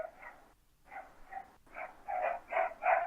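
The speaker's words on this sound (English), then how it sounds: "That's my dog." A dog's short yelps and barks come in an uneven run, building louder toward the end and sitting fairly close, with no talk over them.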